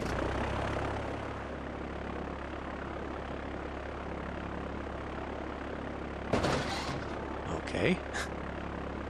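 A fire plane taxiing in SimCity 4 gives a steady propeller-engine drone throughout, with brief louder bursts near the end and someone speaking briefly.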